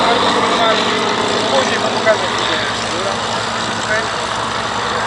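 A Hawker Fury biplane's Rolls-Royce Kestrel 2S supercharged V12 piston engine at an air show at Duxford, giving a steady, loud, low droning run with a constant rough rumble throughout.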